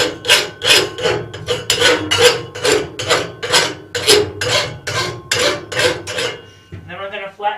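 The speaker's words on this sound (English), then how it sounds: "Now I'm going to come in and rasp that off just a little bit." A hand rasp files a forged metal arrow-pattern cusp latch body in loud, close, rhythmic strokes, about a dozen evenly paced rasping passes before a short lighter scrape at the end.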